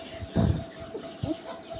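Chickens and chicks clucking close by, a few short soft clucks and chirps spaced irregularly over a quiet background, with a sharper peep at the very end.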